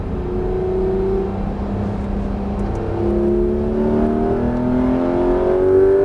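A Porsche 991 GT3 RS with a PDK gearbox accelerates hard on the Alès race circuit. The engine note climbs steadily through repeated rising sweeps, loud and close, with no talk over it.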